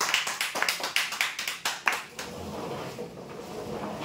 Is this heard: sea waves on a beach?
no